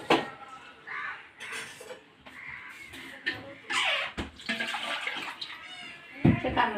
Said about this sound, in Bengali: বন্ধুরা, একটু পানি দিলাম নারকেলটা যাতে সেদ্ধ হয়।